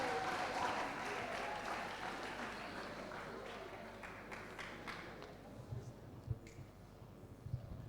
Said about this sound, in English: A round of applause for the DISEC committee.